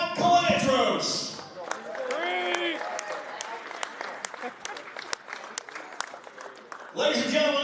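Audience applause honoring alumni at a high school wrestling regional qualifier quad meet, a few seconds of scattered, crisp clapping in a gym, with someone talking over the start and end.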